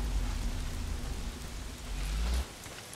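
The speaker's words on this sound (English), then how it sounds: "Well, not if it's pissing down rain." Heavy rain pours in the video game Days Gone, a steady dense hiss of downpour with a low rumble underneath, continuous and fairly loud throughout and easing slightly in the low end near the end, with no voices.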